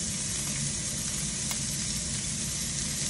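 Onions sizzling in a hot pan, a dense, steady frying hiss, close and continuous with no talking.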